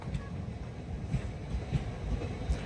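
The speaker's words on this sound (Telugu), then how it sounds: "ఈ ట్రైన్ వచ్చేసి ఆటోమొబైల్ క్యారియర్" Automobile carrier freight train for transporting cars rolls past near Kamareddy with a low rumble and faint rhythmic wheel clatter, quiet and distant-sounding, with a bit of wind.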